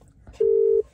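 A telephone busy signal sounds from a failed phone call, one steady loud tone lasting about half a second after a brief stretch of faint room noise.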